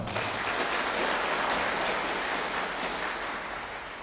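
A ceremony audience applauding, a dense, steady wash of clapping that stays loud throughout and eases off slightly near the end, with no talking.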